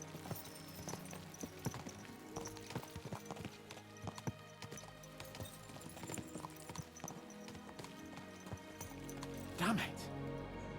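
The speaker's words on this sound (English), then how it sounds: "Let's really spur these horses on, eh?" Horses galloping in the video game Kingdom Come: Deliverance 2, with rapid, close clip-clop hoofbeats running throughout, a brief whinny-like swell near the end, and a voice talking over the gallop.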